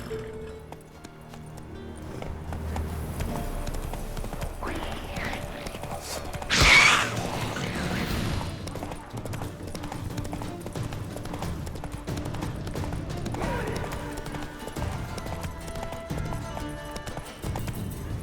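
Hooves clip-clop steadily under a ridden horse in The Witcher 3, a continuous galloping rhythm beneath game music, with one brief louder burst midway.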